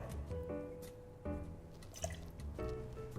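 Campari poured into a bar measure while building a Bitter Mai Tai cocktail, heard as a close, quiet run of liquid trickling and dripping in short bursts, with no talking.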